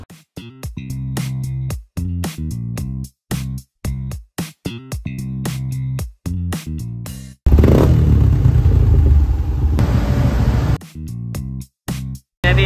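A Yamaha Y15 motorcycle engine revs on a dyno in loud, choppy bursts with sharp cut-offs, then a sustained, roaring high-rev run of several seconds before returning to short blips.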